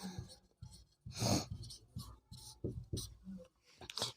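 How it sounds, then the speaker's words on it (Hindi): Pen strokes on paper as a math proof is written out in a class 10 triangle lesson, a close run of short scratchy scribbles and taps in uneven bursts with brief pauses, no speech over them. "अब हम इसके लिए उपपत्ति लिखते हैं"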